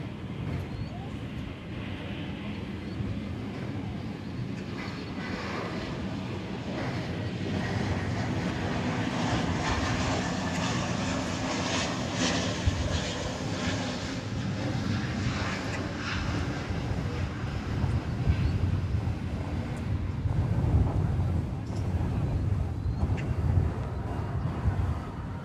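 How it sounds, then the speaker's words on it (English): A colorful Viva Aerobus airliner arrives from Monterey and lands at DFW Airport in grey weather, a broad, steady jet roar that swells slightly as it nears, with faint voices underneath. "I hear a plane. There it is. So this is the colorful Viva Aerobus coming in from Monterey."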